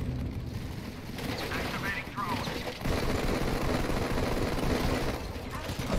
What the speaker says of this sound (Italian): Attenzione, ci sparano, ci sparano.